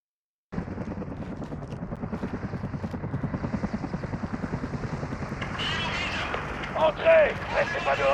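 A military helicopter in Call of Duty: Modern Warfare thumps with a steady, loud rotor beat close by, then gives way to roaring noise and shouted voices in a tense gunfight scene.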